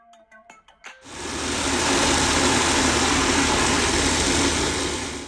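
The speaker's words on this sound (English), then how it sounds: "we can blend this pickle in the mixie grinder" A mixie grinder runs at full speed blending tomato pickle with tamarind pulp and chili powder, a loud steady whirring roar that starts abruptly after a few brief knocks and holds evenly to the end.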